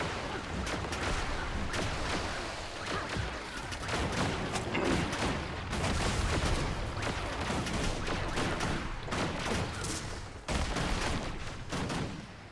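Rapid bursts of explosions and gunfire-like blasts from combat in the video game Guild Wars 2, dense and repeated throughout with sharp loud hits and no pauses.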